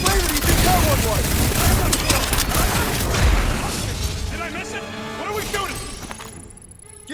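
Sci-fi weapon fire in Marvel's Guardians of the Galaxy, a dense barrage of shots and impacts under frequent character talk, thinning out toward the end.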